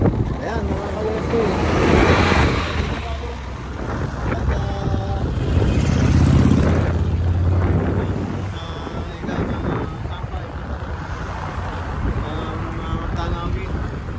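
Ocean waves and wind roll along the coast in Hawaii, a broad steady wash of surf with gusts buffeting the microphone, swelling and easing over several seconds as someone talks on and off.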